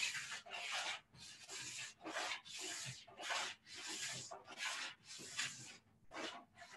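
A plastic scraper pulls wax off a ski in long, steady repeated strokes, producing rough rasping scrapes about one per second, close and alone.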